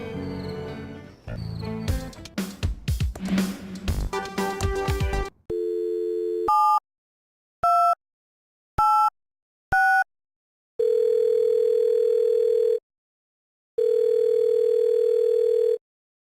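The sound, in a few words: telephone busy signal and dial tone in Thimbleweed Park video game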